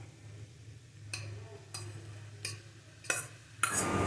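A spoon scraping and knocking in a pan as cooked rice is stirred into a beetroot mixture, giving about five separate clinks at regular intervals over a low steady hum, growing louder toward the end.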